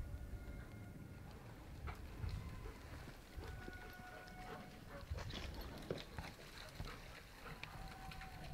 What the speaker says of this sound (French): C'est encore des chiens là à droite.